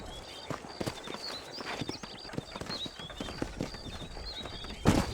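Horse hooves clip-clop in uneven bursts in the Western video game Red Dead Redemption, near and moderately quiet, with bird chirps in the background and a sharp louder hit near the end.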